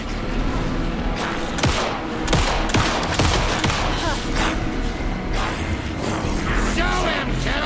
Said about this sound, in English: Shoot him to pin him down.